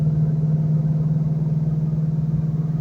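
A supercharged 2004 Procharged Mustang Mach 1 with 4.10 gears cruises and pulls toward 70 mph, giving a steady, close, low droning engine hum with a slight pulsing throb and no talk.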